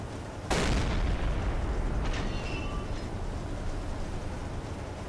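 A U-boat deck gun in Silent Hunter 3 fires one loud, sharp boom at a ship, followed by a long rumbling tail and a faint crackle of debris from the hit.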